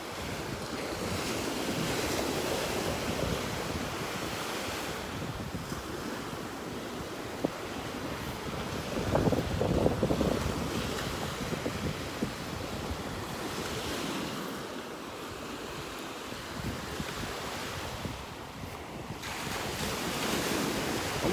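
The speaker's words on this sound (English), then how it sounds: "Love the sounds of those waves though." Ocean surf breaks steadily along a beach in North Naples, Florida, with rough water right at the shore; the rolling wash continues throughout, swelling in places, with wind buffeting the microphone and no one talking.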